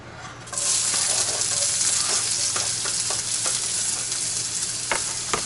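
Onions tossed into hot olive oil for a vegan breakfast burrito burst into a bright, steady sizzle that starts abruptly and holds, with a few faint stirring taps and a low kitchen hum beneath, no talking.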